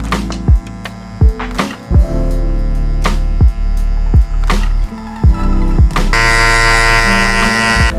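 An electric beard clipper with its lever opened to a number 1 setting blends a beard trim, a loud, steady buzzing hum up close, broken by brief shifts in pitch as the blade passes through hair.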